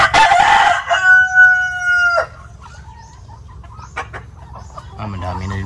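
Native chickens crow and cluck loudly and close by, a long rooster crow over a steady farmyard murmur followed by scattered clucks and calls.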